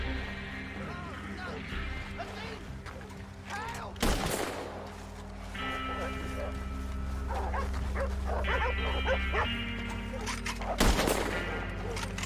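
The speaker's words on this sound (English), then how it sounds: "I'll keep these dogs at bay." Several dogs bark in a Red Dead Redemption 2 village scene, with sharp gunshot-like bursts at about four and eleven seconds and other game sounds and music running under the barking.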